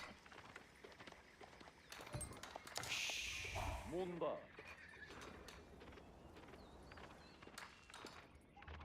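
Cavalry horses in the Age of Empires 4 strategy game whinny and clop amid clashing battle effects, with one clear neigh rising mid-clip over a busy, faint game soundscape.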